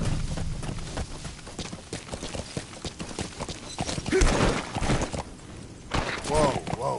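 Horse hooves clop at a gallop in the Metal Gear Solid V video game, a steady rhythmic drumming close by, with a brief whinny and game sounds layered over it.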